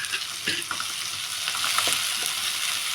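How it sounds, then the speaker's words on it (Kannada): Tomatoes fry with green chillies in a hot pan, a steady close sizzle with occasional soft scraping taps from stirring, no voice present. "ಟೊಮಟೊ ಹಾಕ್ಕೊಂಡು ಸ್ವಲ್ಪ ಫ್ರೈ ಮಾಡೋಣ"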